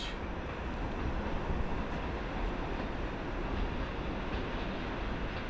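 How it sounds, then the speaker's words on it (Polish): An Intercity train, the Strzelecki service, pulls into Warszawa Wschodnia station in the early morning, giving off a steady, broad rolling rumble that holds evenly throughout without any talk. "a nieco dalej podstawia się kolejny skład. Najprawdopodobniej to pociąg Intercity Strzelecki"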